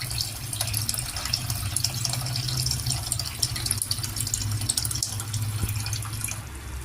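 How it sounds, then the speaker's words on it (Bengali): Water poured into a cooking pot for khichuri, a steady splashing, rushing stream heard close and continuous throughout. "এবার কিন্তু জল দিয়ে দেবো, পরিমাণ মতো জল দিয়ে দেবো"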